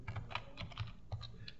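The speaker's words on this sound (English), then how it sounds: "Don't worry about all my typing business here" Close, quick typing on a computer keyboard during a drawing-software tutorial, irregular bursts of soft key clicks over a low hum, with no talking.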